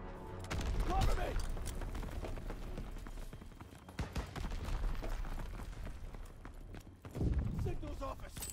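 Gunfire in the WWII shooter Call of Duty WWII, a battlefield of rattling shots and bursts under shouted voices, with louder blasts near the start and end over a constant din.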